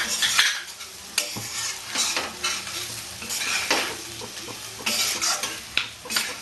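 Green chili and cashews tossed into a hot pan for Bengali muri ghonto crackle and sizzle, while a metal spoon scrapes and stirs in irregular bursts, close and with no voices.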